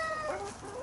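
Hens clucking and chattering close by, rising and falling calls overlapping in a short burst, with no speech.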